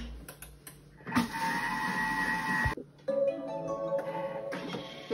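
A Thermomix TM6 whips egg whites with its measuring cup removed, running as a steady mechanical whir and whine that stops briefly midway and then resumes with a changed tone, heard close with no talking.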